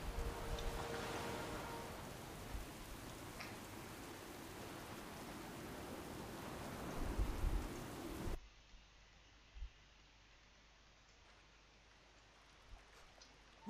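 A World of Warcraft storm brings a steady, faint hiss of rain for several seconds. It then drops abruptly to a quieter bed broken by a few soft low thumps.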